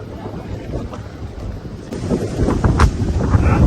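Strong wind buffets the microphone during a run on a hill trek near Kanchikacherla. The rumbling gusts are loud and close and grow stronger in the second half.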